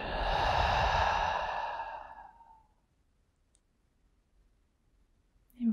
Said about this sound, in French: Expirez en vidant complètement par la bouche.